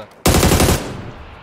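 A sudden loud burst of rapid automatic gunfire in a shooter game, firing for about half a second and then trailing off into a decaying echo, close and alone.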